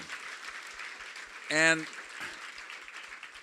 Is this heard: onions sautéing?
no